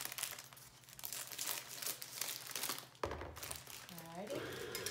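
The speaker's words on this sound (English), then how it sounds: "then cut the second bag open. Scissors right there." A plastic bag is cut open with scissors in a home kitchen while baking cherry chocolate chip cookies, giving crinkling and rustling plastic with a short cutting snip midway, close and moderately loud under background chatter.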